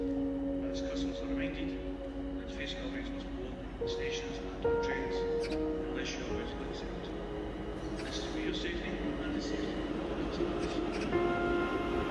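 Interior of a three-carriage train at Wemyss Bay station, a low rumble and rattling running steadily under an onboard announcement voice.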